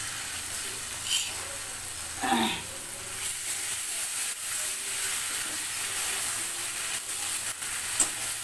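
Ground fried onion, garlic and dried chili go into a hot pan and set off a short burst of sizzling, followed by a steady low frying hiss that continues with faint stirring clatter.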